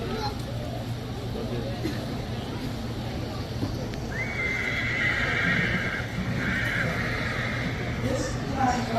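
A Belgian draft horse at a horsemanship class show neighs in a loud, drawn-out whinny partway through, with hoof clops and a crowd's murmur and voices underneath.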